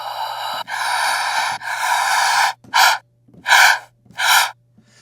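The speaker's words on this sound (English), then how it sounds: "I'll play a couple of the inhales real quick." A sequence of isolated human breath inhales from a sound design library, five or six sharp, close, dry gasping intakes of varying length separated by short silences.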